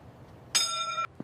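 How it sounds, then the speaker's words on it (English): A school lunch bell gives a single bright electronic ring of about half a second, followed by a faint short knock, with no talking. "There is the lunch bell."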